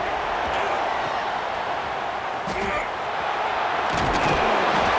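Stadium crowd in an NCAA Football 26 college football game roars in a steady, dense wash of cheering, with a few sharper thumps and claps around midway and near the end.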